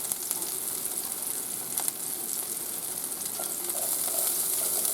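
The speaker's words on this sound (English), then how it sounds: "Now we're going to add our garlic and ginger." Garlic and ginger sizzle and fry steadily in a hot pan for General Tso's chicken, a dense continuous crackle with a few stir clinks, growing slightly louder toward the end.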